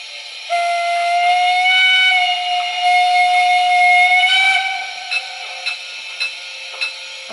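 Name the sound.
model steam locomotive DCC sound whistles, Lenz Br98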